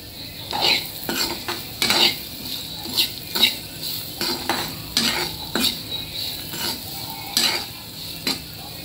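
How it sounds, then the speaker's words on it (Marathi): Poha being stirred in a pan (kadhai) with salt and sugar, a series of irregular scraping and clinking strokes of a spoon against metal over a light sizzle, close and fairly loud. "चवीपुरतं मीठ, चवीपुरती साखर आणि चांगलं मिक्स करून घेऊ."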